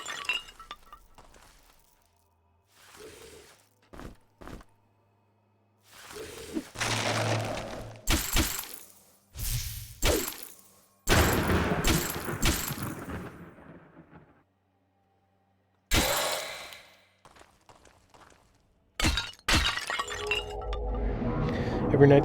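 Frost bombs shattering in the dungeon game Legend of Grimrock 2, heard as several sharp, glassy breaking bursts spaced through the clip, separated by near-silence, with occasional talk and game noises in between.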